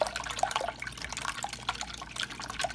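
Egg mixture for French toast stirred in a bowl, with soft wet sloshing and clicking of a utensil in a quick irregular rhythm, close and fairly quiet.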